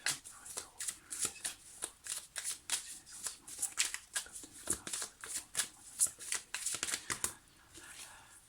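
Tarot cards are shuffled steadily by hand, a quick, close run of crisp riffling and flicking sounds with uneven rhythm, fairly soft overall.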